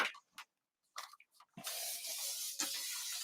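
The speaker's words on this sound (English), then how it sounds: "I'll give this a spray of water as well and see if that helps it stick" A few short spritzes from a water spray bottle onto velvet fabric, then a longer steady hiss of spraying, close and fairly quiet, with small clicks between bursts.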